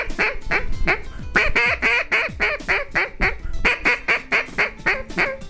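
A duck call imitating a hen mallard blows a long rhythmic series of raspy quacks, loud and close, in rapid repeated notes with no talking over them.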